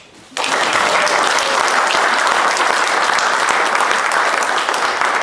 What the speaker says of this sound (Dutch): Ik vraag even voor mijn medewerkers een applaus.